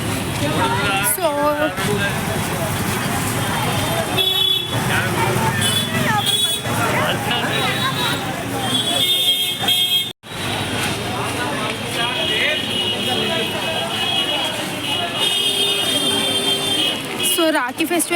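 Dense street traffic at Begum Bazaar in Hyderabad during the busy Rakhi festival season, a steady roar of engines, crowd babble and occasional horn toots running continuously with a brief dropout midway.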